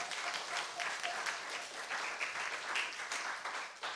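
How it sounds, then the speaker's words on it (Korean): Church congregation applauding together during a Sunday sermon, a steady, dense wash of many hands clapping that holds for about four seconds at moderate volume, with a few faint voices mixed in. "여러분들에게 이 부유를 주신 하나님께 영광의 박수를 한번 드릴까요?"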